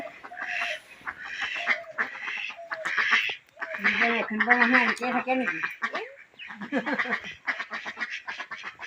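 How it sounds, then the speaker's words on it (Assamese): Several ducks quack repeatedly close by in a village in Lakhimpur, Assam, a busy overlapping chorus of nasal calls, with people talking now and then among them. "হাঁহ এটা আছে"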